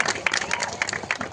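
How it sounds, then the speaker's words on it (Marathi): Wrestling match crowd in a village clapping for the event's sponsor, a scattered burst of applause with a few sharp individual claps standing out. "एकदा राजेश मालकांसाठी जोरदार टाळ्या करा"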